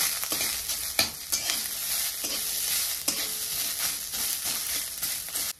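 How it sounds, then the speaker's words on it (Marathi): Chopped onion fries in a little oil for misal pav, giving a steady, close sizzle broken by repeated sharp scrapes and clanks of a spoon stirring the pan, with no talking. "थोडंसं तेल टाकून घेते, जे आपला कांदा पटकन भाजला जाईल"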